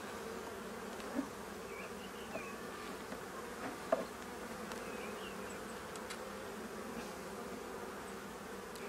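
Honeybees at an opened hive during a spring inspection hum in a steady, close, dense drone, with a few brief clicks and knocks from handling the frames; no voices.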